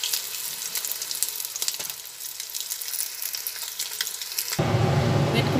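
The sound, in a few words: bhetki fish frying in oil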